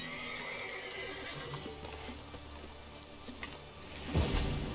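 A horse in The Witcher III: Wild Hunt neighs and whinnies over quiet game ambience. A faint clip-clop and a low thump come near the end.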